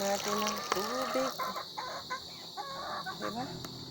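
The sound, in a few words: chickens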